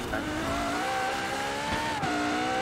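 A car engine drones in the racing video game Forza Horizon 4, holding a strong, steady tone that lifts slightly in pitch, with tire noise rushing underneath and no pauses.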